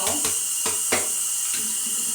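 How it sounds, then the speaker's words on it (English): Tap water running into a kitchen sink while dishes are washed with a sponge, a steady close hiss broken by a few clattering knocks of dishes, with a voice speaking briefly. "I learned how to wash dishes."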